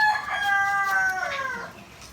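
A rooster crows over clucking chickens at a campsite farm, the crow's harmonic sweep loud and close, with a few hen clucks trailing off at the end.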